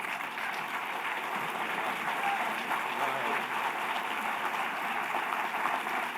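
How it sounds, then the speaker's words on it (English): Sustained applause from a large audience at a Kentucky summit, steady and dense throughout, greeting the state governor as he takes the stage. "Let's give a big, warm round of applause to the governor of this great Commonwealth of Kentucky, Governor Andy Beshear."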